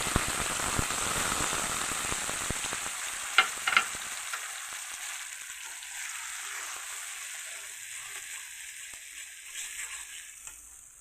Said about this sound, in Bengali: মশলাটা আমার ভাজা হয়ে গেছে।